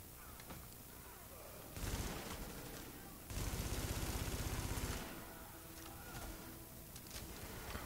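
Assault rifle gunfire in The Division, a faint steady background of shots with two louder bursts, the second a rapid rattling stretch of about two seconds.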